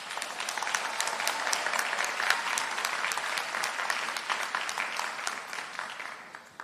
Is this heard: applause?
yes